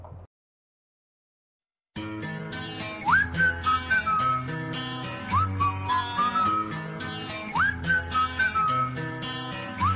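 After a brief silence, a pop song plays, its catchy whistled hook rising and falling in repeated phrases over a steady beat and backing music.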